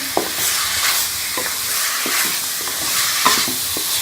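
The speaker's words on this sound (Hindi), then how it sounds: "मटन को कलर चेंज होने तक अच्छी तरह से फ्राई कर लेंगे।" Mutton pieces fry in a hot pan for Peshawari namkeen gosht, giving a steady close sizzle with a few scraping stirs and clinks, no voices.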